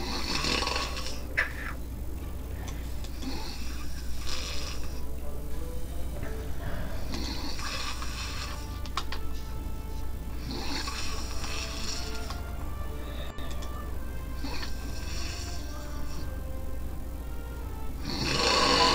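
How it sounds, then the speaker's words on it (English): Rhythmic in-game snoring from a character in the video game Star Trek Online, a steady loud rasping breath repeating in slow cycles over a constant background hum, with no talking. "That snoring makes my head hurt."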